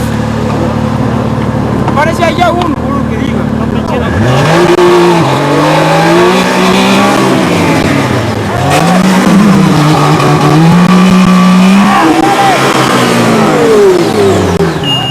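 A McRae rally buggy at the 2011 Dakar Rally drives past with its engine revving and rising and falling in pitch, fairly close and loud, while a commentator talks over it throughout.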